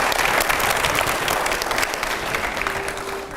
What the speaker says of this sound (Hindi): लेकिन इस राउंड की तरफ बढ़े, थोड़ी ज़ोरदार तालियों के साथ में